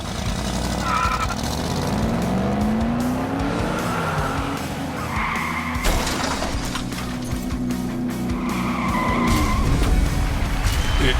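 Diecast toy cars, including a 1968 Plymouth Barracuda Formula S, race down a track with loud car engine roars and squealing tire skids layered in continuously, punctuated by rising whooshes as they speed past.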